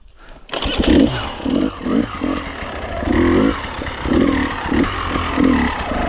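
An enduro motorcycle engine catches and runs close by, its revs surging and dropping in repeated bursts during tight pivot-turn practice, with no talk.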